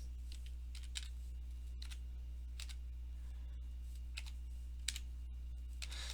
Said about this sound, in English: And then I can type in my key number here.